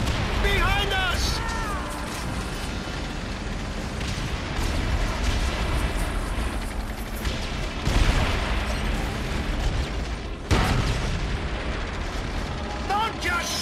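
Tank battle in the World War II game Call of Duty: World at War, with a constant heavy rumble of engines and gunfire, sharp cannon booms near the eight- and ten-second marks, and shouting voices over the din.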